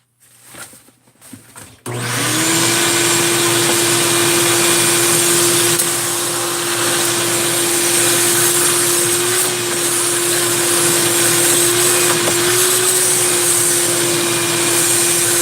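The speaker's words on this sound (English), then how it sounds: "I don't think I'm going to ever be heard over the Dremel" A Dremel rotary tool ports the cylinder of a 372 chainsaw engine with a 52mm bore, starting after a short quiet moment and then holding a loud, steady high whine close by with no talking.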